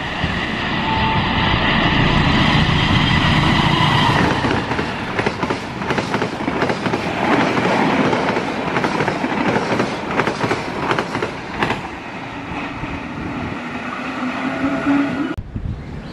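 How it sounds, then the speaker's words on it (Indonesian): The Menores 176 passenger train roars past Cibitung station, a loud continuous rumble with rapid clattering of wheels over rail joints that eases slightly toward the end. "ini akan melintas kereta api Menores 176"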